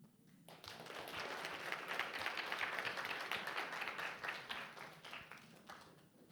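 An audience at a live event applauds Cindy, a dense, sustained round of clapping that swells quickly, holds for several seconds, then tapers slightly, heard from within the room at moderate level.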